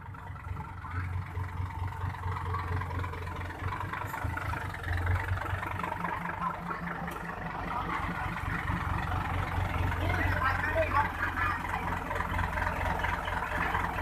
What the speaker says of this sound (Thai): เดี๋ยวรถไถมาดันนะครับ